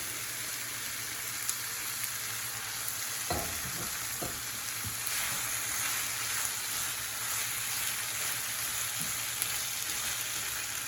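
Zucchini sizzles and fries in a pan alongside a whole pink salmon, with a steady crackling hiss and a few stirring clanks near the start, no talking.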